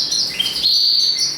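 Male canaries, breeding cockbirds, chirp and trill close by, a bright continuous warble with a quick high call partway through.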